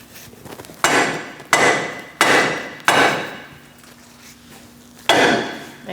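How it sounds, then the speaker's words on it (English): Five sharp metallic hammer strikes, each ringing briefly, knock the front lower control arm ball joint free on a 2000-2006 Mini Cooper, four in steady succession and a final blow after a short pause, close and loud. "we're going to give it a whack right around here and here, and it should drop down"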